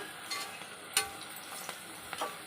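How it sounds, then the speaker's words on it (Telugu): Onions fry in a pan for a Rayalaseema-style goat head curry, with a quiet background sizzle and a few scraping stirs from a utensil. "ఉల్లిపాయలు ఇంత మాత్రం కలితే చాలు"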